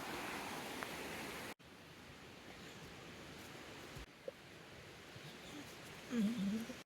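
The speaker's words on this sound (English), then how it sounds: "I'm camping right on top of a river. So that's the background noise." River flowing right beside a campsite after rain, a steady soft rushing wash in the background broken by handling bumps, faint and continuous under the scene.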